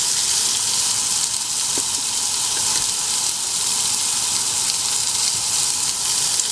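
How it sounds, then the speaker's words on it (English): Carrots and other vegetables saute in lard in a camp-cooking pan for a Sichuan chickpea succotash, with a constant broadband sizzle close by that holds steady throughout. "we're going to saute that until the carrots are a little tender, but still al dente"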